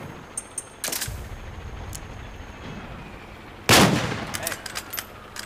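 Loud gunshots in the video game Metal Gear Solid 4, two sharp reports a few seconds apart, each with a ringing tail and a few smaller clicks and impacts between them.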